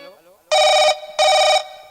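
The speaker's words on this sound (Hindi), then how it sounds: "फोन आ गया" A telephone rings during a village Ramlila stage performance: two loud, steady electronic ring bursts, each about half a second long, follow a brief bit of speech.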